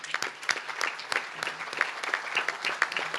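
An audience claps for legislative committee members at a pancake breakfast event, producing a steady patter of moderate applause that is fairly close and lasts throughout, with no speech over it.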